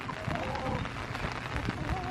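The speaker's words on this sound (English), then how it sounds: "It's raining." Rain falls steadily outside a chicken coop, a dense continuous patter on surfaces at close range, fairly even throughout the short stretch.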